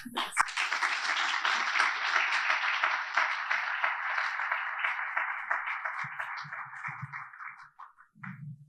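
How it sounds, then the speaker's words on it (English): An IEEE Jamaica conference audience gives sustained applause for a minister, a dense, even wash of clapping that tapers off, followed by a few brief low voices. "Let's give her again another round of applause"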